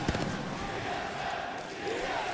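Spectators roar and cheer in an arena during the final circle of an Apex Legends esports championship match, a dense sustained crowd swell with a commentator's voice running over it.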